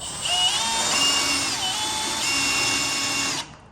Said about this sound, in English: Drill out the paint.